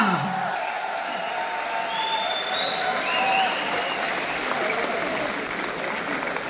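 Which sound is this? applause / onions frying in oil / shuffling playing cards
applause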